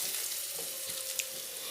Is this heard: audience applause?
no